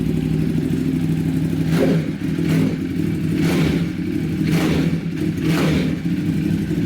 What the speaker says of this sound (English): The grunt of a Ducati.